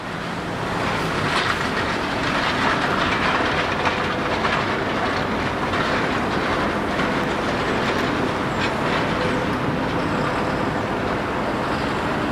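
A train rolls past on rails near an airport, a steady loud rumble with rhythmic clickety-clack of wheels lasting throughout, close and continuous with no talking.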